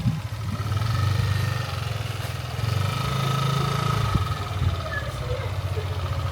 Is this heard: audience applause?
no